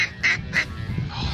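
Several ducks quacking in quick bursts during a duck hunt in Arkansas, three loud calls close together followed by fainter murmuring over outdoor background noise.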